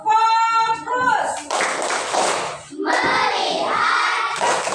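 Schoolchildren in a classroom doing a rhythmic clapping chant, voices calling out together between quick claps, lively and close, mixed with spoken lines.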